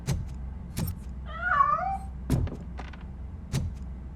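A single wavering cat meow in the video game Robocop Rogue City, mid-volume and brief, set among dull thumping footsteps or impacts spaced about a second apart.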